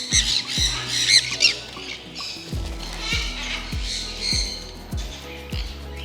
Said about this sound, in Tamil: இங்கே ஒன்று இருக்கு, பச்சைக்கிளி, ஏதோ ஒரு பேர்டு.